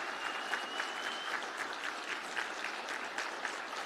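A conference audience applauds student program participants, dense, steady clapping filling the room from start to finish with a faint whistle drifting through it.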